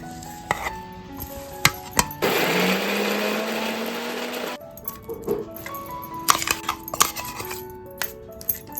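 Onion and coconut being ground in a kitchen mixer, a loud whirring grind of about two seconds that rises in pitch, framed by clinks and knocks of utensils handled before and after.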